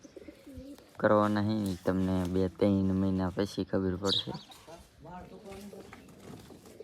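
Fancy pigeons in a home loft coo in several rounded, rhythmic bursts close to the microphone, followed by softer rustling while a person talks quietly near the end.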